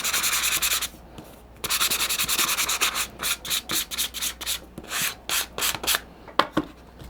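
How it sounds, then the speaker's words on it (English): 200 grit sandpaper roughing the back of a playing card: a close, loud scratchy rubbing, first in long continuous strokes, then in quick short back-and-forth strokes with brief pauses. "this is some 200 grit sandpaper. Okay, we're just going to rough the back of this a little bit"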